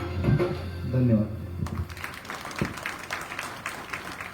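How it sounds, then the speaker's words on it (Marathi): An audience at a devotional evening applauds after a bhajan, scattered claps rising out of the end of the music and talk, then settling into a moderate, steady patter. "जोरदार टाळ्या"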